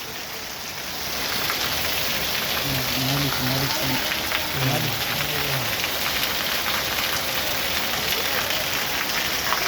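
Torrential cloudburst rain pours in a dense, steady roar onto a tin-sheet shed in a village in Purna taluka, Parbhani district, with a few faint voices briefly underneath.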